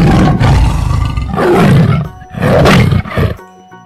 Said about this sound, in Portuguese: Tigre, com certeza.